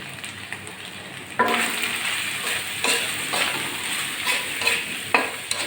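Spices for a tilapia curry fry in hot oil as masala is cooked down, a steady close sizzle broken by repeated scraping stirs of the spoon against the pan.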